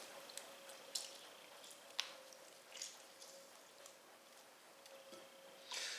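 Fresh lemon juice squeezed through a small sieve in a home kitchen while baking a butter Bundt cake: quiet, soft squishes and scattered drips, faint and close, with a few light taps.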